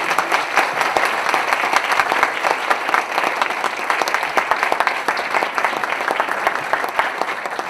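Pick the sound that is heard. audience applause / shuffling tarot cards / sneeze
audience applause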